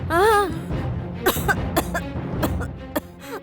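A few sharp, harsh coughs burst out in quick succession after a brief vocal sound, fairly close and loud, with faint background noise.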